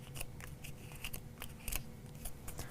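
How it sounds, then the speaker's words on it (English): A silhouette scraper tool curls paper leaves with quiet, repeated scratchy swipes in an uneven rhythm, close and soft. "take the silhouette scraper tool and just kind of curl those away from that center fold"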